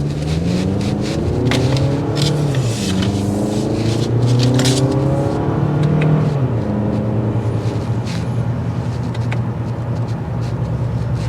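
A 2024 Toyota Camry SE accelerates, its engine rising in pitch through several gear shifts in a steady, loud drone with background rumble and no talking.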